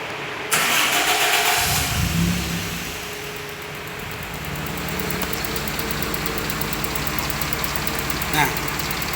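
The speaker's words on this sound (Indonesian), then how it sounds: "sambil saya start mesinnya." A Suzuki Soluna car engine cranks and catches, then settles into a steady, fairly loud idle with a slightly rough, vibrating rumble, heard close by with no talk over it.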